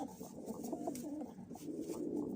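Turkish Takla pigeons coo softly and repeatedly at close range in a quiet loft during breeding season, low rhythmic coos with a few faint flutters.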